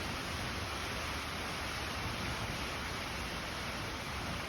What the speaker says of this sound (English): you can catch the rain actually coming in